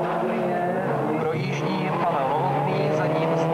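Two small Citroen rallycross cars race in a 1999 European Rallycross Division 2 round in the Czech Republic, their engines a steady, loud, close roar with rising and falling pitch, while a commentator talks over them.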